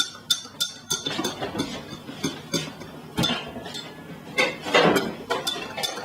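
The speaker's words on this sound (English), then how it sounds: "Then we're going to use our spoon and we're going to mix it up." A spoon clinks and scrapes against a dish while stirring a detergent mixture, a series of sharp irregular taps and knocks, close and alone with no talking.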